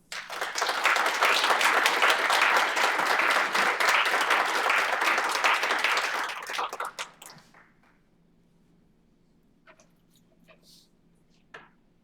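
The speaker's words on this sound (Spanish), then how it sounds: "Recibámoslo, por favor, con un fuerte, fuerte aplauso." Audience applause in a conference hall welcoming a speaker, a loud dense burst of clapping for about seven seconds that fades out, followed by near silence with faint room noise.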